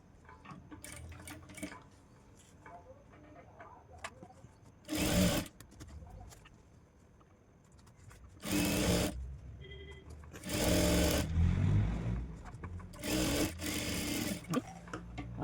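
Sewing machine stitching a designer blouse, with loud, close whirring runs of rapid needle chatter in several short bursts, separated by quieter handling sounds and pauses.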